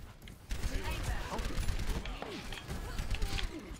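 Rapid automatic gunfire rattling continuously in Overwatch, dense overlapping shots mixed with game effects and chatter, with a voice speaking beneath the battle noise.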